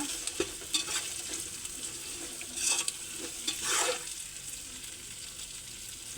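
Ginger garlic paste sautés in a pan with a quiet, steady sizzle, broken by light clicks and scrapes as it is stirred.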